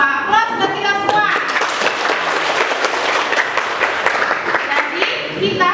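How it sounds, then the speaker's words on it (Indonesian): Classroom of students applauding together for about six seconds, dense steady clapping at close range with some voices mixed in at the start. "Aplaus buat kita semua"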